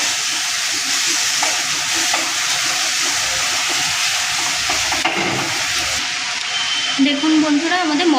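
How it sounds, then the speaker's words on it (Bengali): Spice masala with coriander powder fries in oil in a pan for a spicy swamp-eel curry, a steady loud sizzle with scraping stirring strokes throughout and a brief lull midway. "মশলাটাকে ভালো করে নাড়িয়ে চাড়িয়ে নিচ্ছি, কষিয়ে নিচ্ছি।"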